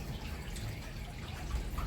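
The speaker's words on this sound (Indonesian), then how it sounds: "cuma kita mau tambahin airnya biar agak penuh" Water poured into a container of plant cuttings makes a soft, steady trickle and splash close by. It runs continuously for the whole moment with no voices.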